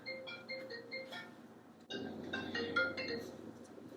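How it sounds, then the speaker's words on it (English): A phone's ringtone plays indoors as a repeating melodic chime pattern, fairly faint, with a short pause before the tune starts again. "forgot to put my phone on vibrate."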